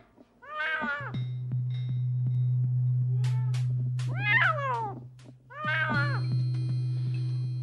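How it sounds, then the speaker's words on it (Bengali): A cat meows three times in a comedy drama scene, each call a clear rising-and-falling cry, with a steady low hum running underneath between the calls. "হঠাৎ কোত্থেকে যেন বিড়ালের একটা মিউ আওয়াজ।"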